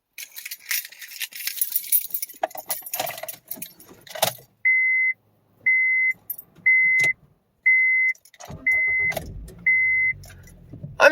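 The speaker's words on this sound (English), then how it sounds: "Here, just listen to the crank." A 2007 Honda Fit Sport is being started. Keys jangle in the ignition, a chime beeps six times at an even pace, and then the starter cranks the engine with a low, churning whir near the end.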